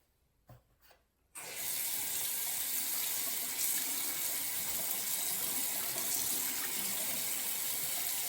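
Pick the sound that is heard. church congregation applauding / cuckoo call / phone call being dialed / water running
water running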